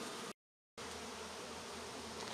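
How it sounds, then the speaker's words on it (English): Honey bees swarm and buzz after frames from a hive super are shaken out onto the ground, a dense steady drone heard up close, broken by one short silent gap. "shaken all the bees out on the ground, and we're still looking for the queen"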